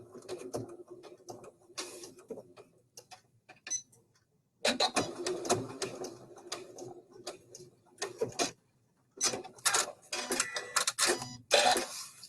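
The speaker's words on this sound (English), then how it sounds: "I'm going to go back and I'm going to restitch that area." A sewing machine restitches the seam of a double welt pocket in short bursts of rapid mechanical stitching, broken by brief pauses and quiet handling of the fabric.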